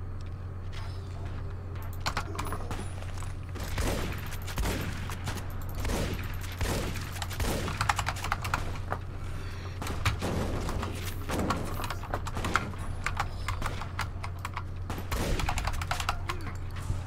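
Shotgun blasts from the game Fallout New Vegas ring out as a run of sharp, loud reports at irregular intervals, layered over a steady low hum and game background noise.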